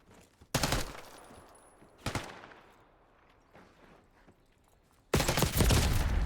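Black Ops 6 gunfight: loud bursts of automatic gunfire open, recur once and return near the end, separated by quieter stretches of rattling and faint footsteps.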